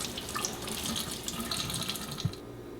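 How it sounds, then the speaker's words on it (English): Tap water runs steadily into a sink while a makeup brush is rinsed under it, a close, even splashing hiss that continues without pause before quieting near the end. "run your brush under the water and just rinse it nice and clean"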